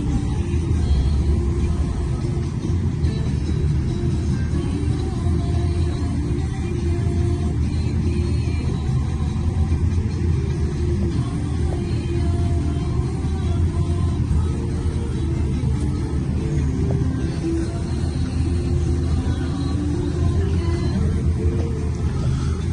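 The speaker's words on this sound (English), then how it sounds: "We are on a bus that's going from Kanapali to Lahaina. It's stuck in traffic right now, actually, which is why it's kind of, stop and start." A bus travels from Kaanapali to Lahaina on Maui through stop-and-start traffic, heard from inside as a continuous loud low engine rumble and road noise with no clear pauses.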